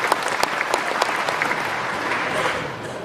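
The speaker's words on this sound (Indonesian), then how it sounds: "kasih tepuk tangan buat beliau" Audience clapping for a speaker at a religious talk in Gimhae, South Korea; close, lively applause with sharp individual claps that gradually thins out toward the end.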